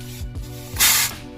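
A bagged Mercedes W202 air suspension lets out a short, sharp hiss of compressed air as a switch is pressed, a burst of about a quarter second following a few soft clicks, close and loud.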